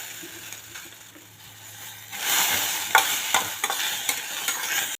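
Peanuts roast in an aluminium kadhai, with quiet scraping that turns into a louder sizzle after water is splashed in, then irregular rattling stirs and knocks against the pan.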